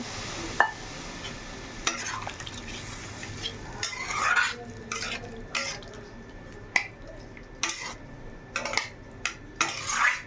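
Elephant foot yam curry being sautéed in a pan, with soft sizzling under scattered sharp clinks and scrapes of a spoon against the metal as it is stirred, fairly quiet and close.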